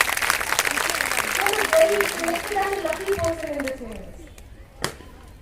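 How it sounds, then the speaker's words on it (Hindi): Students and guests at the Gurjar Kanya Vidya Mandir Devdhar annual school function give a round of applause that swells and then fades away over several seconds, with voices and a sustained tone mixed in before a single sharp knock near the end. "सबसे पहले तो अपने लिए जोरदार तालियां जरूर आप बजाएं"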